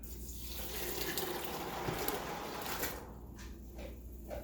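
Water from a tap runs steadily into a pot while preparing beanless chili for pressure canning, a continuous hissing pour that thins and breaks into brief splashes near the end.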